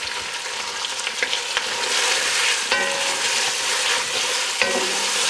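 Tomato puree sizzling and frying in a pot while being stirred, a steady loud hiss with occasional scraping knocks of the spoon.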